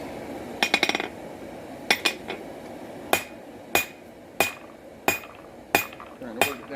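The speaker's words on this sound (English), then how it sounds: "Brought the big hammer back out." Heavy blows from a big hammer ring out as a knife blade is forged, steady rhythm, one sharp clang roughly every half second, close and loud.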